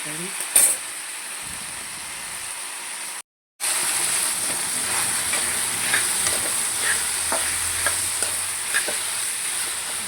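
Tomatoes frying in oil and stirred in a pan on a stove for a white brinjal kurma, with a soft steady sizzle and repeated scraping clinks of a spoon against the pan; a brief break in the middle.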